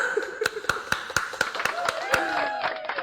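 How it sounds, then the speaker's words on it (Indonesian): Hands clap in a quick, even rhythm, about nine crisp, close claps during a podcast recording, while people talk and chuckle alongside and a voice carries on after the clapping stops. "Tepuk tangannya mana?"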